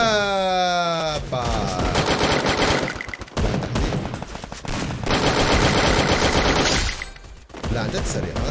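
Rapid bursts of AUG assault-rifle fire in the mobile shooter Free Fire, loud, dense automatic volleys with brief pauses between strings, starting after a short musical tone.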